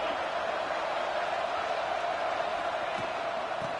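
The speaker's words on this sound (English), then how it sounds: "this crowd is ready" Dense, steady roar of a packed college football stadium crowd before a big third down, loud and continuous with a few louder swells, no clear single voices standing out.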